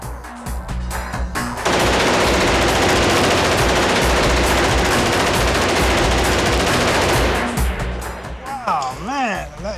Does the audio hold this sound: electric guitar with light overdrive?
no